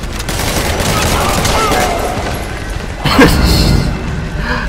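Sustained automatic gunfire aimed at the player in Metal Gear Solid 5: The Phantom Pain, a loud continuous fusillade with a heavier impact or boom about two-thirds through, followed by further rattling shots.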